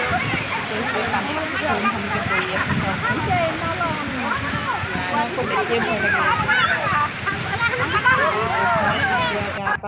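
Continuous splashing and sloshing water from people bathing outdoors, dense and close, with voices chattering throughout.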